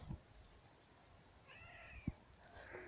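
A cat gives a few faint, thin meows beside a village stream on a farm, heard at a distance over soft running water with a couple of louder knocks.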